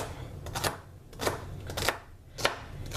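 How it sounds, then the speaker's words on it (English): Knife coarsely chopping washed celery on a cutting board in four quick bursts of crisp cuts, up close, with no talking. "I just coarse chop my celery."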